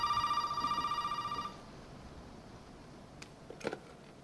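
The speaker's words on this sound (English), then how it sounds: "time to go into the creepy phone that's ringing" A telephone bell in the game Resident Evil 7 rings in steady repeated bursts for about a second and a half, then stops, leaving a quiet hum with a few faint clicks.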